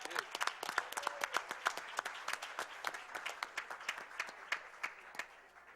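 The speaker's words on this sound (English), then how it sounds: "Let's give them another round of applause." Audience applause for a school choir at a Board of Education meeting: dense, steady clapping from a modest crowd, fairly close, lasting throughout and fading slightly toward the end.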